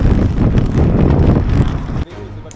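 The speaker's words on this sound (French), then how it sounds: "Et là le vent nous pousse." Wind roaring across a microphone while cycling on a road ride near the bay of Cancale, a steady loud buffeting rush that drops off sharply near the end.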